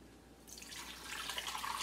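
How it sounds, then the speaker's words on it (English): About three cups of water poured into a crock pot over frozen chicken breasts, a soft splashing trickle that starts after a brief quiet moment and continues faintly to the end. "I'm going to add water."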